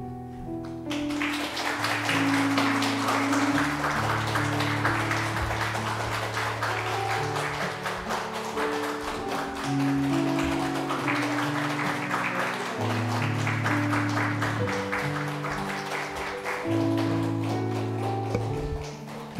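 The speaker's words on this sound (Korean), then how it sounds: "우리 전달할 때 박수해 주시기 바랍니다." Church congregation applauding during a Sunday service retirement presentation, a long steady round of clapping with organ or piano music playing beneath it.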